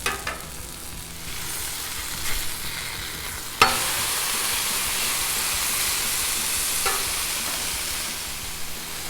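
A burger with queso and chorizo cooking on a Blackstone griddle, giving a loud, continuous sizzling hiss with a few sharp scrapes and clinks of a spatula on the flat top.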